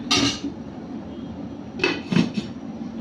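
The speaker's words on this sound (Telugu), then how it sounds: "ఇప్పుడు మూత పెట్టి వదిలేద్దాము" A lid goes onto a pot of restaurant-style gravy with a clattering knock at the start, then a quiet pause, then a few more metallic clinks and taps as it settles, close and fairly loud.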